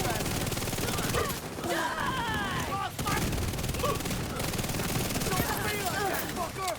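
Enemy gunfire in a video game, a continuous rattle of shots and crackling volleys filling the scene at a steady loud level, with groans and chaotic battle noise mixed in.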